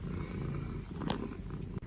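A cat purring up close, soft and continuous, with a faint low rumble and no speech.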